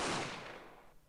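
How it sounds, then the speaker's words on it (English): A video game gunshot: one loud, sharp report that decays over about a second, close and alone with no voices. "Just as we started to descend the stairs, I heard 3 gunshots, and after a pause, another one."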